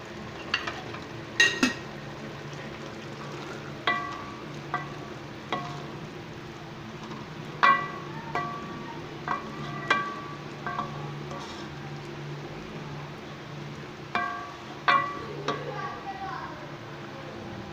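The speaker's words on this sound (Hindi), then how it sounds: "और अभी इसको अच्छे से मैं भून लेता हूँ चनों को।" Black chickpeas cooked in oil and masala in a pan while someone stirs, soft sizzling under scattered clinks and scrapes of a spoon against the pot, with a low hum throughout.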